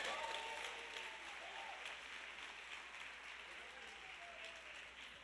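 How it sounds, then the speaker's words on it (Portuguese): Church congregation applauding during a preacher's sermon, a sustained, somewhat distant wash of clapping with faint voices mixed in, easing slightly in level toward the end. "Quem pode aplaudir Jesus Cristo aí"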